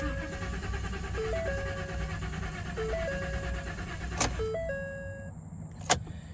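A 2014 Ford F-150 with the 5.0 V8 cranks without starting, a continuous starter-motor churn with warning chimes repeating over it and a couple of sharp clicks near the end.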